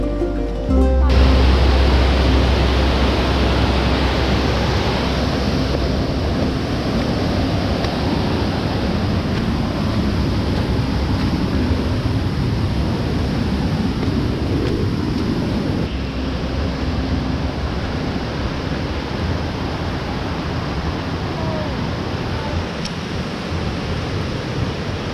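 Hanakapiai Falls, a waterfall about 300 feet high, roars as a loud, continuous broadband rush, with a deep low rumble and wind buffeting at the start.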